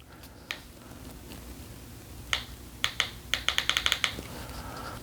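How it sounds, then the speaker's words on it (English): An LG TV remote control's buttons clicked repeatedly, a sparse few clicks followed by a quick burst of sharp, close, crisp taps, with no one speaking. "I don't know if you can hear the button clicking with nothing happening on the screen."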